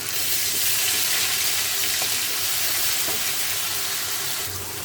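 Onion paste and nut paste frying in hot oil, giving a dense, steady, hissing sizzle with faint stirring that eases slightly near the end, nothing spoken.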